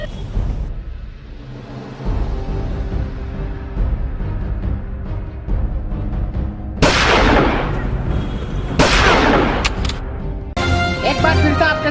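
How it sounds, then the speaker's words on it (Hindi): Loud, sharp gunshot cracks between gangsters, a few heavy reports arriving in separate bursts over a continuous rumbling, chaotic background, with no voices standing out. "चली आपस में गुंडों में गोलियां"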